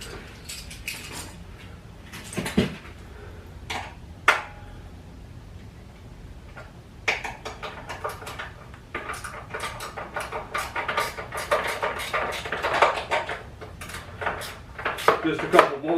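Seat pan being unbolted and removed from a 1968 BSA B44 Scrambler motorcycle: scattered metallic clanks and taps, then a longer stretch of rattling, scraping handling of metal parts close by.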